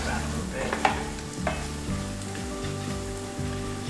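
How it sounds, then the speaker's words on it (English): Bacon simmers in a pan for bacon jam with a steady sizzle and a few stirring scrapes, close and continuous. "It's crispy now, but once we let this simmer in here, it's going to rehydrate."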